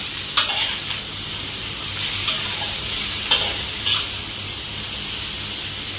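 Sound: stir-frying luffa gourd with shrimp in a hot pan

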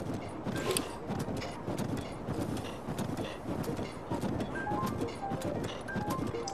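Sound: horse hooves in a video game

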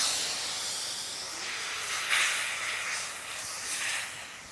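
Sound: water and turmeric added to a hot pan for shukto

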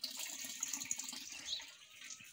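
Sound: water running from a tap while someone washes face and hands

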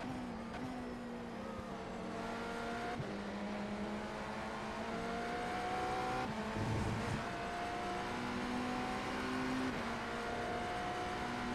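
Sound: race car lifting off throttle in iRacing IMSA game

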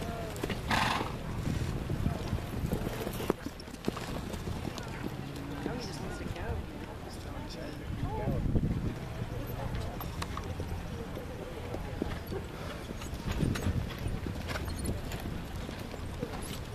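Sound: horses cantering in arena

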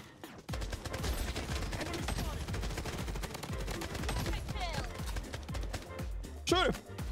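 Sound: gunfire in the video game Blood Strike

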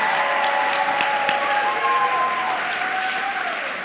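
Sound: church congregation applause

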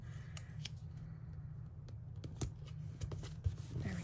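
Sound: scissors trimming paper for a journal page

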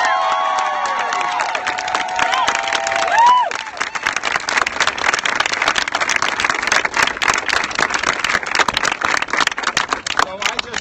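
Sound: crowd cheering and applauding at rally

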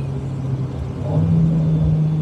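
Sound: car engine noise while driving

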